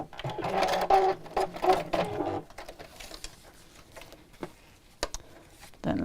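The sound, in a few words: sewing machine stitching a zip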